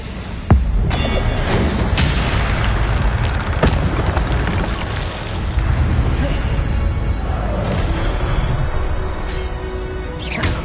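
Fire spell being cast in a Harry Potter video game, a sustained roaring, crackling blast of flame with booming low rumble and whooshing bursts, loud and dense throughout.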